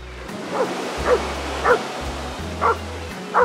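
A dog barks five times at sea lions at a steady pace, sharp and fairly close, over a low background rumble, in Valparaíso, Chile.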